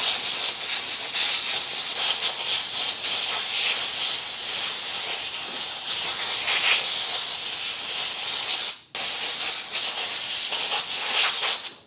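Compressed air hisses loudly and continuously, blowing excess oil off the trigger mechanism of a Verney-Carron Veloce rifle, cutting out briefly near the end before a final burst.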